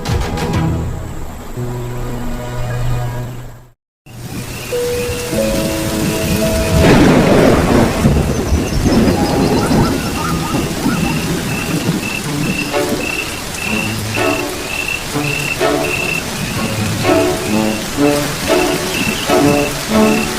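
Steady rain falls with rolling thunder rumbling in a wet outdoor setting; a brief gap breaks the sound early, then heavy rain and deep thunder continue loudly with faint frog-like calls and scattered drips.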